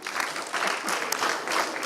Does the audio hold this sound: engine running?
no